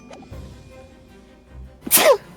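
A single sharp sneeze bursts out near the end, loud and close, after a stretch of quiet room tone with faint low rumbles.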